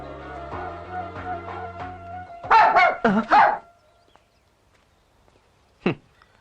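A dog barks several times in a quick close burst after a music sting ends in a scene from the Telugu comedy film Pagale Vennela, then gives one more short bark a few seconds later in near silence.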